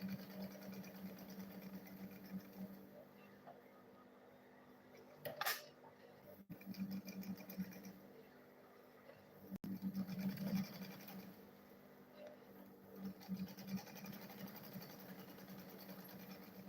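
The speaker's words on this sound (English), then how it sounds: "I'll now go ahead and turn the lining and I'll sew all of them together straight." A sewing machine stitches the lining of a school bag in several bursts of steady mechanical whirring, close by and moderately loud, with quiet pauses and a few handling knocks between runs.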